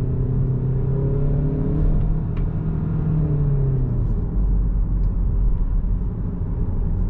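A car engine with its gearbox set to sport mode revs up and eases back down, a close, steady rumble with rising and falling tones and no talking.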